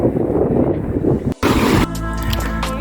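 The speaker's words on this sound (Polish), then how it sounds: "Trochę wieje" Gusty wind buffets the microphone on a mountain path on Montaña de Guaza in Tenerife, a loud rushing roar with a brief drop and then a sudden burst before settling into steadier blowing.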